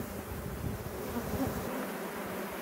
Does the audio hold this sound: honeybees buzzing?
yes